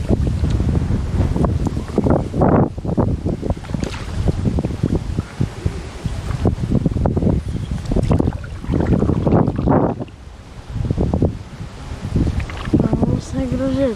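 Wind gusts across Lake Galvė in Trakai during a stand-up paddleboard tour, roughly buffeting the microphone in loud, uneven bursts, while a person talks intermittently over the rush.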